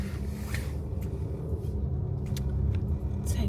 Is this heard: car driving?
yes